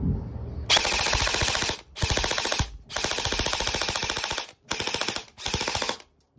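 An SRC Beta Sportline airsoft AEG rifle fires full auto in five loud, close bursts of rapid mechanical cracks, each lasting around half a second to a second, separated by short silent gaps.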